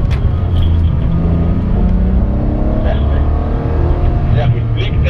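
A rear-wheel-drive car accelerates during drift training, a loud low engine roar building steadily, with an instructor speaking over it.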